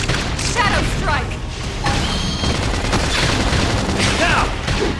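Gunfire and explosions in the video game Xenoblade Chronicles X, a dense burst of shots and mechanical battle effects mixed with voices and game sounds.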